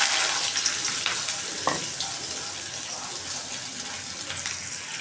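Onion dropped into hot oil with bay leaf, cinnamon, cardamom and cloves, a bright hissing sizzle that starts strong and gradually eases, with faint stirring clicks, close by.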